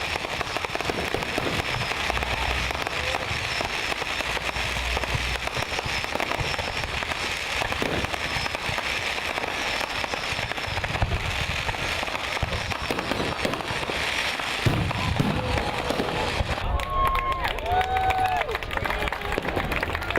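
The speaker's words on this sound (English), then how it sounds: "to witness the fireworks at midnight" New Year's midnight fireworks at a Guyana Defence Force base camp crackle and pop continuously in a dense, distant barrage, with crowd noise and voices mixed underneath.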